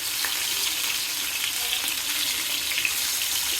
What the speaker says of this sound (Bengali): তেল গরম হয়েছে, মাছের পিসগুলো একে একে দিয়ে দিব।